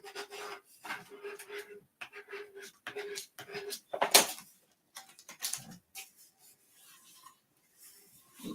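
Adhesive paper being burnished down by hand during a craft project, heard as a string of close, short rasping rubs in an uneven rhythm, with brief pauses between strokes.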